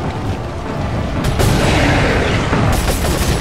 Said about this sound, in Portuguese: Eu quero que ele venha pra cá, mano, pra explodir esse barril aqui nele